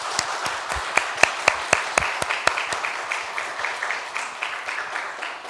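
A church congregation during a Sunday service claps steadily, with a few sharp, distinct claps standing out near the start before the applause thins and softens.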